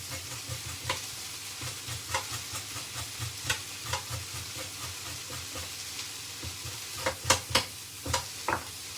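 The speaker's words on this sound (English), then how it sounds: "you can kind of just scrape down the carrot with the edge of the knife" A knife edge scraping down a raw carrot, a rapid series of close rasping strokes in uneven rhythm over a low steady background hiss, without speech.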